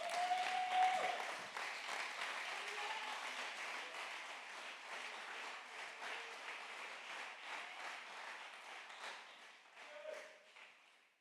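A church congregation applauding the Lord during a French sermon, a steady wash of many hands clapping for about ten seconds, fading at the end, with faint voices underneath.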